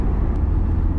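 A Honda S2000 AP2 pulls away from a stop with a close, heavy, low engine rumble that holds steady through a brief moment, with no talk.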